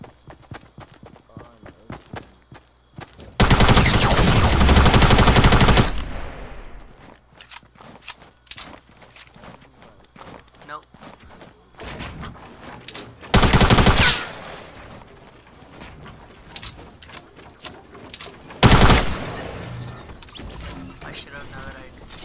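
Gunfire in a shooting video game: a long burst of rapid automatic fire, then two shorter bursts later, amid quieter clicks and footsteps, with a voice talking.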